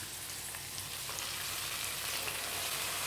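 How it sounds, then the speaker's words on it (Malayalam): Ghee-fried cashews, raisins and coconut bits poured over broken wheat payasam, making a soft, steady sizzle with faint crackles, fairly quiet and without speech. "നമുക്കിത് പായസത്തിൻ്റെ മുകളിലോട്ടൊന്ന് ഒഴിച്ചു കൊടുക്കാം."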